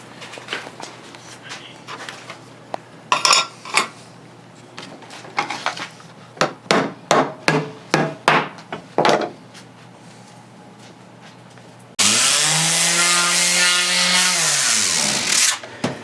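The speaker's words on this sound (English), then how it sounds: "I'm sanding the paint off the heads of this 1927 Cadillac" Sharp scraping and rubbing strokes, then a loud steady mechanical whine from a power sander removing paint from the engine cylinder heads of a 1927 Cadillac, running for several seconds before winding down.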